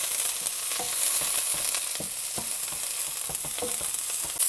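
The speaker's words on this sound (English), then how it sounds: "some onions and garlic and green onions that I'm going to saute nicely inside here first" Onions, garlic and green onions sautéing in a hot pan, a steady close sizzle and crackle running throughout with occasional stirring ticks, no talking.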